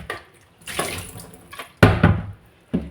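Tap water poured over fresh fish being washed in a kitchen sink, coming in splashy bursts separated by short pauses, loud and close.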